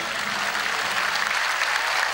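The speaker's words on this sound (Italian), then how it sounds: "Un applauso forte forte, un applauso forte forte." A crowd applauds heartily at an open-air summer concert in Treviso, a brief, dense burst of close clapping that stays strong throughout with no voices over it.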